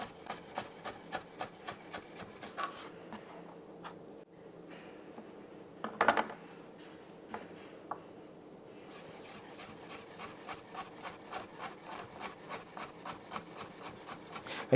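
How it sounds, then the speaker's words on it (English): A knife scrapes zest from an orange in a rhythmic series of soft, close rasping strokes, steady and fairly faint, with a brief louder knock midway. "you get quite a lot of zest from an orange"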